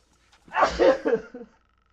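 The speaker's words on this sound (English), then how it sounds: "I'm gonna sneeze real quick." A single close sneeze from an adult during a livestream, a short sharp burst followed by a couple of trailing breathy bursts, then quiet.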